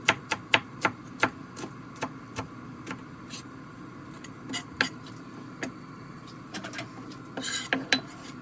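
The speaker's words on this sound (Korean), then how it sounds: "청양고추 2개를 총총총 썰어가지고 그릇에 담아주세요" Two Cheongyang chili peppers are finely chopped with a knife on a board, a quick run of crisp taps that slows into scattered, quieter cuts.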